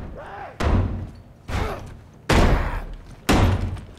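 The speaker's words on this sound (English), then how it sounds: "this guy is banging door" Heavy doors banged open hard in The Last of Us Remastered on PS4, four loud booming thuds spaced about a second apart, each with a long rumbling decay, alone and close.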